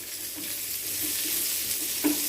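Onion, garlic and dried chilli fry in a pan for tomato chutney, giving a steady close sizzle with a few soft stirring scrapes and no talking.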